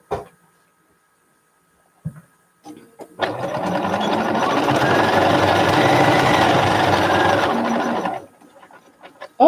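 Domestic sewing machine stitching around the edge of a garment, a steady whirring run of about five seconds with faint handling clicks before and after.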